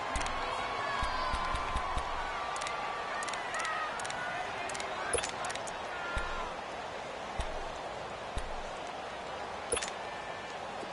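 Football stadium crowd during a game, a steady broad roar of cheering swelling ahead of a third down, with a faint announcer's voice running over it.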